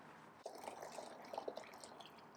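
Water poured into a hollowed pumpkin holding grain mash for home-brewed beer, a soft, steady trickle and splash starting abruptly and running on quietly with small drips.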